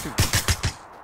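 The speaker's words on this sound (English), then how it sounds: "Oh, he's shooting at me." Rapid gunfire in the battle royale video game PUBG, four sharp shots in a fast, even burst, loud and close, then quickly fading with no talk.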